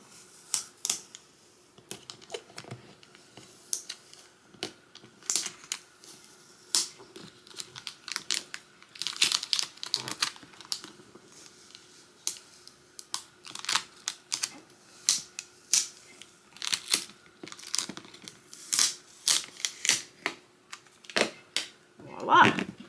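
Plastic scraper pressing removable vinyl letters onto a cupcake tote, then transfer tape crinkling and peeling away, heard as many short, close scraping and crackling bursts in a steady irregular rhythm with no talk.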